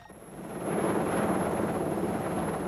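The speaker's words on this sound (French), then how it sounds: "Au lever du jour, les avions décollent." Airplanes take off at dawn in the aftermath of a violent storm, a broad engine roar swelling over the first second and then holding steady and loud, with a faint high whine running above it.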